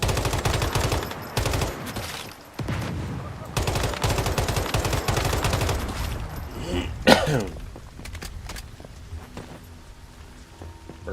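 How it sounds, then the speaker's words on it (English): Bursts of automatic gunfire in the video game Once Human, repeated clusters of rapid shots with short pauses, loud and close, ending in a single sharp crack and quieter ambience. "Burst firing seems to be alright."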